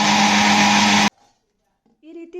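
A kitchen mixer grinder whirs loudly and steadily as it grinds soaked ingredients with water in the jar, then cuts off abruptly after about a second; a faint voice follows near the end.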